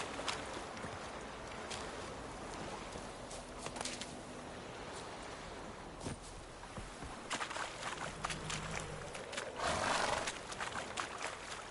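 Horse riding in The Witcher 3 on PS4 Pro: hooves clop along with snorts and whinnies, over rustling game ambience that swells toward the end.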